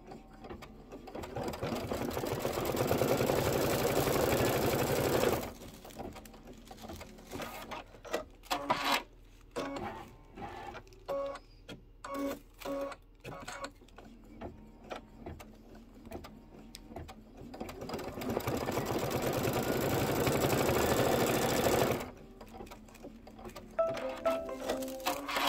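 An embroidery sewing machine runs a placement stitch line for Mylar on a Kimberbell bee quilt block, with two long steady bursts of dense rapid stitching separated by a stretch of sparser, stop-start mechanical clicks and taps.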